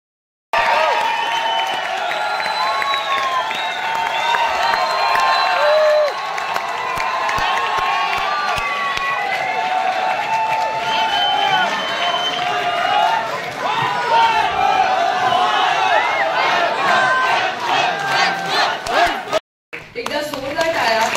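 An audience at a Marathi movie launch event claps and cheers, a continuous wash of applause mixed with crowd noise and a voice speaking over it, steady for about twenty seconds before a brief cut.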